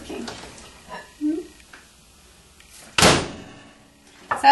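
A microwave oven door is opened and then shut, a sharp latch clunk cutting through the middle, followed by another click near the end, with a few scattered voice sounds around it in a quiet kitchen.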